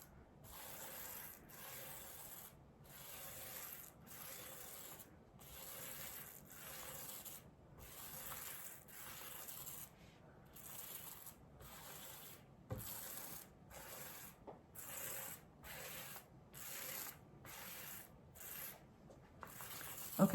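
A trowel spreads a heavy, even coat of shark tooth primer over MDF ahead of Novacolor Marmorino KS lime plaster, making close, rhythmic scraping strokes with short pauses between passes, repeated steadily throughout.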